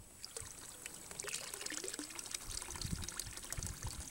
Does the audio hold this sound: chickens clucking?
no